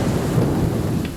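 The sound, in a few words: thunder and rain in the video game Hello Neighbor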